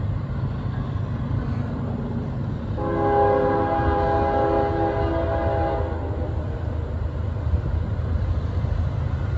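A loud train horn sounds in a long sustained blast over the steady rumble and clatter of a passing Norfolk Southern mixed freight train at Huntingdon, Pennsylvania.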